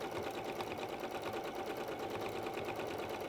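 A sewing machine stitching steadily around fabric, a continuous close whirring hum with a fast even needle rhythm throughout.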